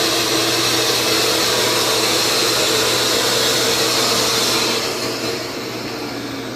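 A spray tanning airbrush machine runs with a steady, loud whirring blower hiss that holds even for about five seconds, then drops slightly in level and continues more softly.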